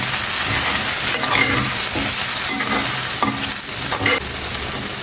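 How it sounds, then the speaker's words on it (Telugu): Spinach idli tempering with sesame seeds and chilli flakes stirred in a hot pan, a steady loud sizzle with repeated scraping strokes of the spoon running throughout, close up. "ఒక్కసారి మొత్తం మిక్స్ చేసేయండి బాగా."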